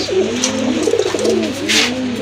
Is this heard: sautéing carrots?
no